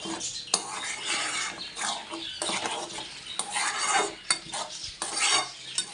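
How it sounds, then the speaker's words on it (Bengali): Taro chilli paste is stirred in a pan, with repeated scraping and clattering strokes of a utensil against metal over a faint sizzle, coming in uneven bursts close by and without speech. "এটা পুরো নাড়তে নাড়তে শুকিয়ে যাবে।"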